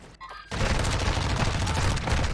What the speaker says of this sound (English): if I shoot him in the head, breaking his helmet and getting a kill